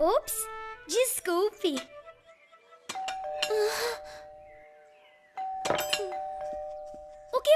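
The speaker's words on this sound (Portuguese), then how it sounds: "Isso é a campainha." A cartoon doorbell rings with a clear two-tone ding-dong chime that sustains, then rings again, mixed with animated character voices talking in Portuguese and comic sound effects.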